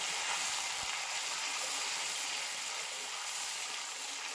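Onion puree hits hot oil for chicken pulao, giving a steady, loud broadband sizzle that holds evenly throughout with no talk over it.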